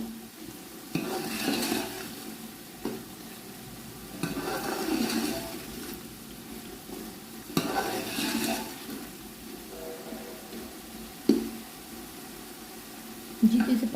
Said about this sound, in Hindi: आँच आपने तेज़ रखनी है, अपने चूल्हे की आँच हल्की नहीं करनी और चम्मच को हिलाते रहना है।